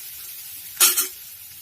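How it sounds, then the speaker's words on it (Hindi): Mung dal mixture with chole masala roasting in a pan, a soft steady sizzle with a brief louder burst of scraping and frying around the middle, no voices. "अब हम इसमें छोला मसाला डालेंगे थोड़ा, और इसे भी 2 मिनट के लिए भूनने देंगे।"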